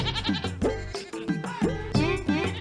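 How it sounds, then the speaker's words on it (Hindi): Several goats bleat repeatedly in quick succession, loud and close, their wavering calls overlapping one after another. "तुम्हारी बकरी और मेरी बकरी मिक्सिंग"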